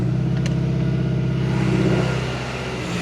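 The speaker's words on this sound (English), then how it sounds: "As you can hear, other than the loud exhaust, the engine is nice and quiet" Car engine idling steadily with a loud, deep exhaust drone, a continuous close rumble over the whole stretch, easing slightly toward the end; engine oil was swapped for movie theater popcorn butter.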